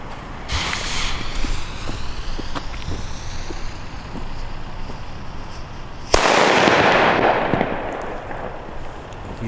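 A Funke Super 2 firecracker, a German Böller, goes off outdoors with one loud, sharp blast that rings out and decays over several seconds, after a stretch of wind and background noise.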